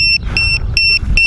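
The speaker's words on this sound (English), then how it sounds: "unplug that. So we don't hear that beeping so much." Repeated electronic beeps from a KING KONG 210GT FPV race drone after landing, sounding in evenly spaced short pairs over a steady low rumble of background noise.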